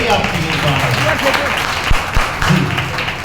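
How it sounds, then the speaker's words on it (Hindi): Audience applause at an evening spiritual discourse gathering: a fairly modest patter of clapping spread across the whole stretch, with a few sharper isolated claps and speech-like murmur mixed in. "तालियां कम रह गई आपकी इस बार।"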